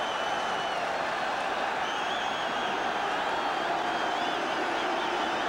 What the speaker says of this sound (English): Now the crowd yelling for a big heave from the Welsh forwards